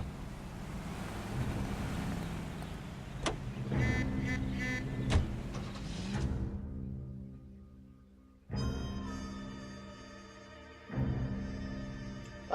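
A car driven through city streets in the video game L.A. Noire, its engine humming steadily, easing off and then surging again with renewed acceleration, heard alone without talk.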